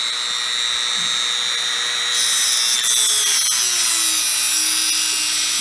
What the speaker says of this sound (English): we're gonna grind a slot in there